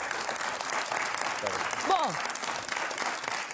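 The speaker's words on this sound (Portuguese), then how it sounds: "Bem-vindo, um grande aplauso." A television studio audience applauds to welcome a guest on a talk show, a dense and steady clapping with a brief spoken word over it.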